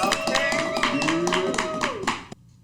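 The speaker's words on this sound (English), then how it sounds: "round of applause for Nene Leakes." Dense studio audience applause with music playing underneath, sustained for about two seconds before cutting off abruptly.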